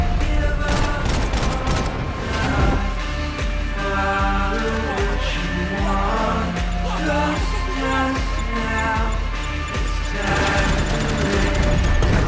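Grenade blasts and gunfire in Max Payne 3, repeated loud booms and rapid shots over a constant layer of game music and effects, dense and close throughout.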